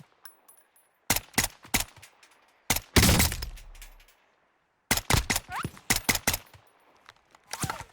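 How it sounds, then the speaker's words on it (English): An SA87 rifle fires in Call of Duty Warzone in several rapid bursts of sharp, loud, close gunshots separated by short pauses, with one longer ringing report in the middle. "I just pushed with the SA87 to finish the down."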